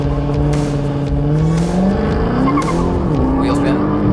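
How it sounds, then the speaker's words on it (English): A car launches hard with wheel spin into a burnout, its engine revving loud and close while the tires squeal with shifting pitch, and people talk over the noise. "Otherwise, it just does a burnout."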